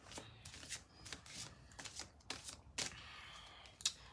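A deck of tarot cards is shuffled, giving quick papery riffles and snaps in uneven bursts, close and fairly quiet, with no talking.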